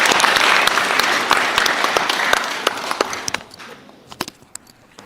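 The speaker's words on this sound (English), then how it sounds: "big round of applause for us" A room full of people at a workshop event breaks into loud applause that thins out over several seconds into a few scattered, separate claps.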